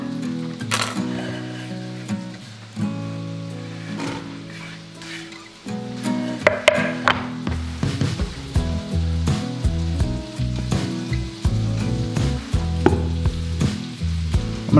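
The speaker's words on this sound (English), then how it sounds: "gonna put the onion in with the sausage to brown it." Wild game sausage and onion browning in a pan give a loud, steady sizzle, with frequent clinks and scrapes of stirring and sharp spatters cutting through. Nobody speaks.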